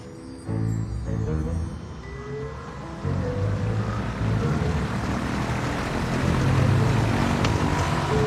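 A small airplane runs, heard from inside the cabin: a steady broadband drone that swells in steps and grows louder toward the end, close and enveloping with no clear speech.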